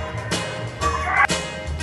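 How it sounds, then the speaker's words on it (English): A dog gives a few quick sharp barks in a radio commercial break, loud and close with a brief whining or yipping note between them. "He barks every time someone comes to the door"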